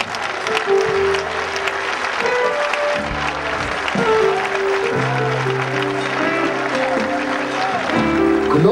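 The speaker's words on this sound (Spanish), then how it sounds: "Dar un aplauso al Señor Jesús." A church congregation gives sustained applause for Jesus, with a dense, steady wash of clapping running throughout, mixed with sung or shouted voices and music.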